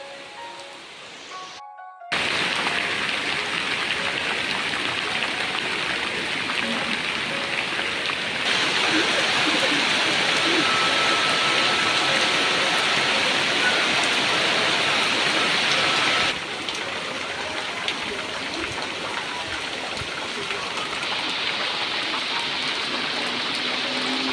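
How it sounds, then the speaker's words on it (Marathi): Steady rain pours down in rural Konkan, a dense continuous hiss that stays loud throughout with slight shifts in intensity and no voices. "येतो आहे पाऊस"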